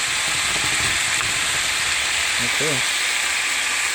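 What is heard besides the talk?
cabbage stir frying in a pan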